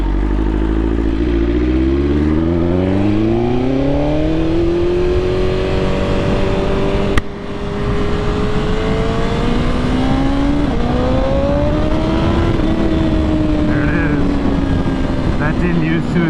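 A BMW S1000RR motorcycle engine growls and idles steadily with the clutch held, its pitch rising and falling as it revs, with a single sharp clack partway through.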